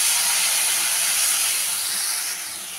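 Water poured into a pan of fried spice paste for a Bengali tengra fish curry hisses and sizzles loudly as steam bursts off, a steady bright spray of sound that slowly eases off, with no talking.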